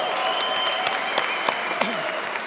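A large crowd at an arm wrestling match in Georgia claps steadily and fills the venue with a dense, continuous wash of applause, with a few louder hand claps standing out.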